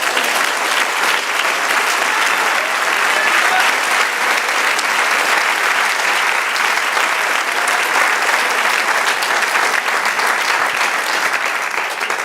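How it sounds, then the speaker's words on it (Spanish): A church congregation at a Spanish-language sermon breaks into loud, sustained applause for the Lord, thick unbroken clapping from the whole room holding steady throughout. "Denle un aplauso al Señor"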